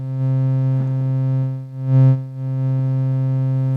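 A steady electronic tone from a modular synth oscillator, produced by a looping function generator patched into a mixer, holds a harmonic-rich pitch throughout with a brief swell near the middle, no talking.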